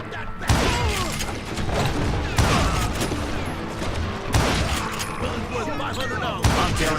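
Gunfire in the Western video game Call of Juarez: Gunslinger comes as dense, loud volleys of shots and echoing blasts, with repeated heavy bursts spaced a second or two apart.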